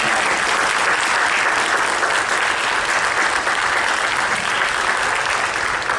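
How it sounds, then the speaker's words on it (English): Continuous, loud applause from an audience honoring Topeka High School Hall of Fame inductees, an even, unbroken crowd of clapping throughout. "Let's give one more round of applause for all those inductees."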